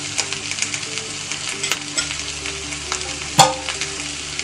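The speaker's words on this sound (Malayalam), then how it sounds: "വെളിച്ചെണ്ണ ഒഴിച്ച് ഇതിൽ കിടന്ന് വറുക്കണം." Chicken frying in coconut oil crackles steadily in the pan, with light stirring scrapes throughout and one sharper clack of utensil on pan partway through.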